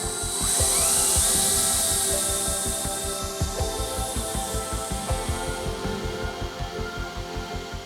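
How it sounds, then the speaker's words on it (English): A small battery drill spins the accessory box of a rare WWII Spitfire engine, a steady whirring drone with a high whine that winds down, followed by a rhythmic ticking, clattering pulse as the gears turn, close and loud with no talk. "my little battery drill takes a bit of a beating, but it does fine. And then it's basically just going to spin up our accessory box."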